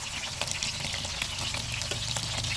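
Chicken breast fillet sizzles and crackles steadily in a hot pan, a dense close frying hiss with scattered pops and occasional stirring scrapes, no voices.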